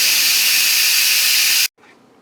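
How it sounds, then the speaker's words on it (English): Steam blasts out of a Cosori pressure cooker as its pressure is released after cooking long-stem artichokes, a loud continuous close hiss that cuts off abruptly, leaving faint residual noise. "the steam is still in the vessel, so I'm going to release the pressure"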